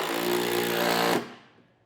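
A power driver with a 10mm socket runs a screw into an enclosed trailer's transition plate ramp, one steady loud whirring burst of about a second that cuts off abruptly and leaves a fading ring.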